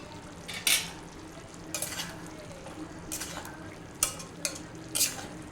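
Chicken handi is stirred with tomato puree in a pan, a quiet simmering sizzle broken by sharp scrapes and clinks of a spoon against the metal at irregular intervals.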